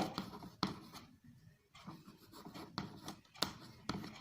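Chalk or marker scratches and taps across a classroom board as a frequency distribution table is written out, quiet, close and irregular strokes with sharper tap accents and no speech.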